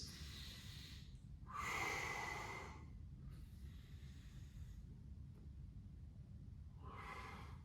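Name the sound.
breathing during a low back exercise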